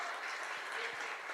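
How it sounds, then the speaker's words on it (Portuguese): Church congregation applauding during a Portuguese-language sermon, a brief burst of dense, steady clapping from many hands. "Pode aplaudir o nome do Senhor essa noite, amém? Aplauda ao Senhor."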